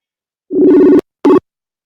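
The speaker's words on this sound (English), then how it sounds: "Oh, that's a new ringtone." A phone ringtone sounds loudly on a radio phone-in show, one ringing burst for about half a second, a short gap, then a second brief burst, with no talk over it.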